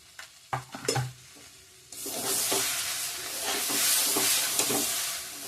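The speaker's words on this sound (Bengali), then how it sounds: "ভালো করে ভেজে নিচ্ছি আমি তেলও ছেড়ে দিছে" Ground coriander and cumin sizzle and fry in hot oil with a steady hiss, and a few clinks and scrapes of stirring come first before the frying rises loud and continuous.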